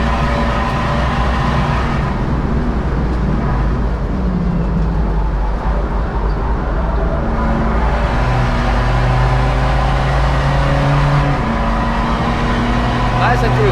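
A diesel Polo driven on the Nürburgring track gives a steady, loud engine drone with road and wind roar that holds through a long pull without a downshift, while a driver talks over it.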